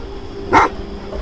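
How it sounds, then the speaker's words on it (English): A single short dog bark rings out in the horror video game Sign of Silence, one sharp mid-level yelp over a quiet ambient background. "And that's a dog."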